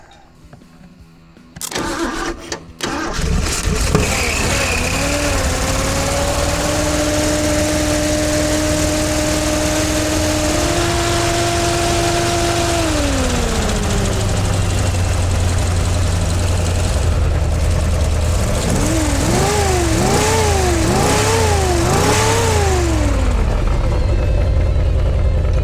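An engine on a 1976 Jeep CJ5 is cranked and catches, then runs loud and close with a rough, steady roar, revving up and settling twice before a series of quick throttle blips near the end.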